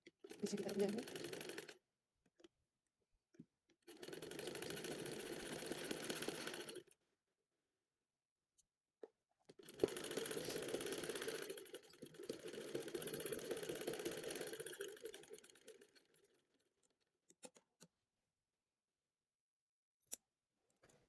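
A sewing machine stitches the sleeve of a baby shirt in three steady runs, each a few seconds long, separated by short pauses. The motor hum is fairly loud and close.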